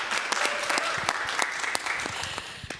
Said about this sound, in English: I feel like we should be starting with some applause for our guest artists